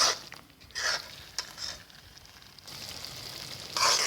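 Mutton coated in masala is roasted in a pot until the ghee separates. Soft sizzling swells in irregular bursts, with faint stirring and spatter in between, close by and quiet, with no talking.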